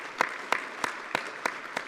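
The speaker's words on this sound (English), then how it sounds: "Please give yourself a round of applause for all the people that do that work." Audience at an opening keynote claps in a large hall, a soft steady wash of applause marked by six evenly spaced sharper claps, heard from a distance with no voices.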